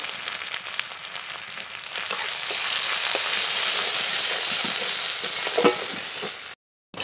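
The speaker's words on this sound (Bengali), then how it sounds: "মশলা ভালো করে কষিয়ে নিয়েছি" Spice paste of green chilli, turmeric and salt fries steadily in a pan, a continuous close sizzle with a few stirring scrapes, cutting out abruptly near the end.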